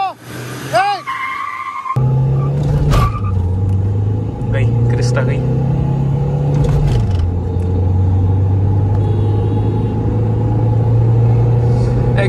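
A Mahindra XUV and a Toyota Innova Crysta in power mode with ESP off launch in a drag race. Loud engines roar and rev with tire noise, a sustained rumble holds through the run, and excited people talk and shout over it.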